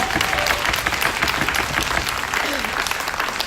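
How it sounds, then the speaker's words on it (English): A conference plenary audience claps steadily and densely, a continuous wash of applause filling the whole stretch at even loudness. "I think she deserves a bigger clap than that."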